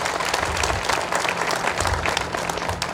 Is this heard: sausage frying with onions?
no